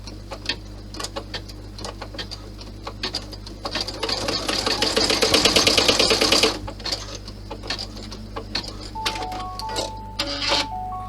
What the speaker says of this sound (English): lower my needle, and then stitch it down.